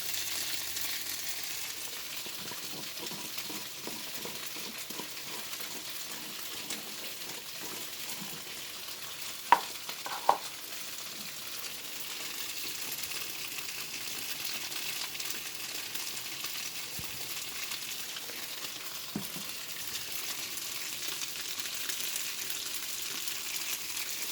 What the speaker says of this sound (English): stir the potatoes and the bouillon together